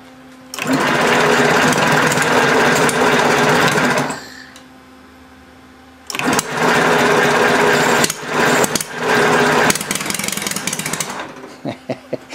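A homemade four-cylinder Briggs engine roars loud and close for a few seconds, dies out, then fires again with an uneven, sputtering run that surges and drops.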